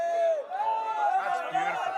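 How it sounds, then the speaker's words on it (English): Excited crowd at a Holi festival in India cheering and whooping, a dense layered roar of many voices with rising shouts, close and loud throughout. "the crowd behind me goes wild"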